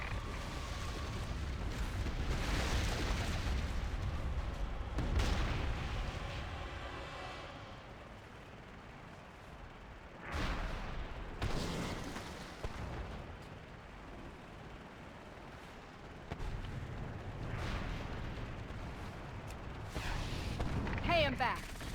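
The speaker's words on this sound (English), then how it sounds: "Use your torpedo rockets on those ships." Torpedo rockets explode on ships in World of Warcraft: Mists of Pandaria Remix, with repeated booming blasts and rumbling bursts over a dense battle soundscape. The explosions come at irregular intervals and mix with game voices.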